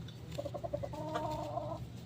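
A gray Boston Kelso gamefowl rooster clucks close by, with a quick run of short clucks followed by a longer drawn-out call, fairly quiet against a low farmyard hum.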